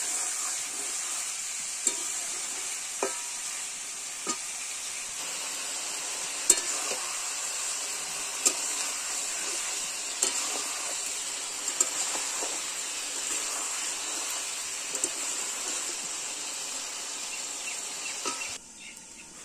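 Mutton pieces sautéed and stirred in a pan for a festive goat curry, with steady sizzling broken by scattered clinks and scrapes of the spoon, close and fairly loud, no voices.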